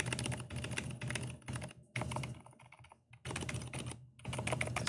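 Rapid typing on a quiet mechanical computer keyboard, close-up bursts of soft clicking in fast runs separated by brief pauses.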